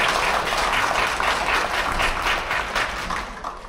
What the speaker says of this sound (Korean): 박안나 대표님께 다시 한번 박수 부탁드립니다